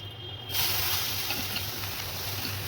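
Carrot and beetroot hit hot oil, setting off a sudden surge of loud hissing sizzle that then holds steady and close until the end.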